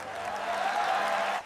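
Steady applause fills a school science exhibition hall, a dense, even wash of clapping that holds for over a second before cutting off abruptly.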